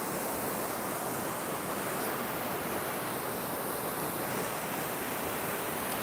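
Water rushes steadily over large stones in a small river waterfall, a broad, constant hiss heard up close with no voices.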